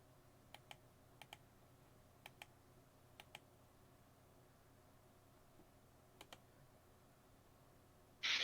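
Computer keyboard typing during an online group meeting: faint, sparse clusters of two or three quick key clicks spaced a second or so apart over quiet background hiss, ending with a brief louder burst.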